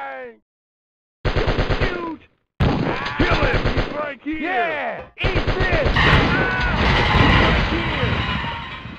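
Rapid machine gun fire in Die Hard Trilogy tower mode on PlayStation, loud sputtering bursts broken by short gaps, mixed with crashes and a voice exclaiming over the shooting.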